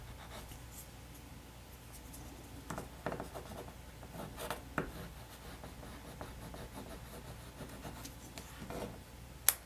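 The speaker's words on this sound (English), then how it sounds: "put it where you want it on the paper and just rub it down" A rub-on transfer is rubbed down onto paper, heard as quiet, close scratchy strokes with scattered sharper rubs and a small tap at the end.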